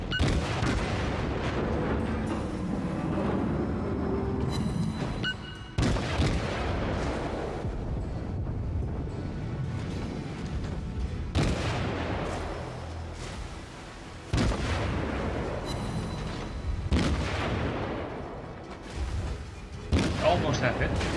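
Naval gunfire in World of Warships, with repeated heavy booms and rumbling volleys arriving in bursts through the battle, loud and close, with a player talking over parts of it.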